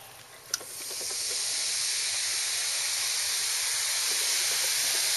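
Vinegar poured into a homemade baking-soda volcano sets off a brief splash and then a loud, steady fizzing hiss that swells and holds without a break.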